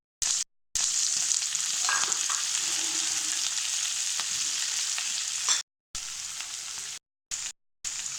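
Vegetables with ginger, chilli and asafoetida fry for navratna khichdi, a steady close crackling sizzle with occasional stirring scrapes, broken by several abrupt silent cuts.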